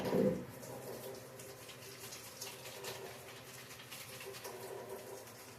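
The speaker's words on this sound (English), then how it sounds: "Let me just wash up my hands real quick here." Water from a faucet runs into a sink for a quick handwash before making French toast, a steady close splashing flow that starts with a louder burst and continues evenly.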